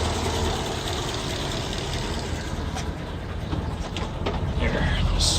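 Engine of a 1936 Ford warmed up and idling, a steady, even low rumble with a dense mechanical texture running unbroken and close.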